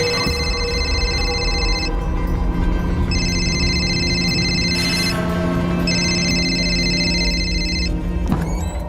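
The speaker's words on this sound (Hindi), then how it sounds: "रिंग जा रही है, कोई पिक नहीं कर रहा है सर" A phone rings in repeated electronic trills, three bursts separated by short pauses, loud and close over a low background hum.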